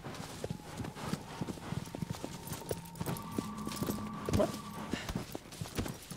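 A horse gallops in the video game Shadow of the Colossus, rapid rhythmic hoof clip-clops over a steady stretch with music tones behind, moderately loud, with faint talk underneath.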